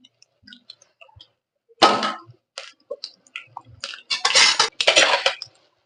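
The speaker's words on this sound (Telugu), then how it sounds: "ఇప్పుడు కరింపాకు వేసేద్దాం." Curry leaves go into a hot cooking pan for chilli pulusu, producing a sudden loud sizzling crackle that bursts out, fades, then flares again in several strong sputtering waves alongside faint clinks of a pan.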